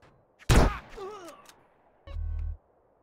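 In Grand Theft Auto: San Andreas Definitive Edition, a loud, close gunfire burst erupts, followed by a brief tonal vocal sound and then a second heavy thudding blast.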